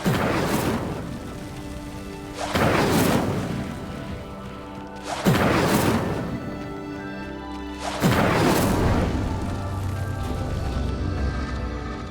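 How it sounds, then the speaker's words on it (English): Incendio fire spell igniting a pyre in the Hogwarts Legacy video game: four loud, roaring bursts of flame about every two and a half to three seconds, each flaring up and fading into a steady crackling rumble, with no talking. "Incendio! Merlin's beard! The flames make the pyre sink."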